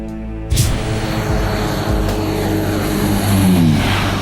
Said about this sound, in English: Powerful and fast, the turboprop Electra is the most advanced airplane in the fleet.